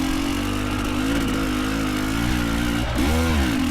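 KTM 300 two-stroke dirt bike fitted with a TSP head, revving steadily while being ridden, with rising and falling engine pitch and a brief throttle blip near the end, loud and close throughout.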